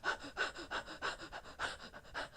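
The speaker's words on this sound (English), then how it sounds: "But I'm going to go with the rapid breath." Rapid, stressful breathing demonstrated by a person, about a dozen quick, close panting breaths in an even, hurried rhythm.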